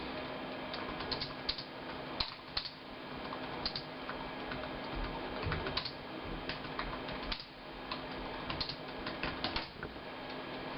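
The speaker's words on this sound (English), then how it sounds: "I'm just going to start typing." Quiet, steady clicking of keys on a computer keyboard, irregular taps continuing throughout with soft background hum.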